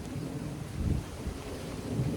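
Thunder rumbling with steady rain during an outdoor cooking session, a low continuous roar swelling around the middle, fairly loud and with no voices.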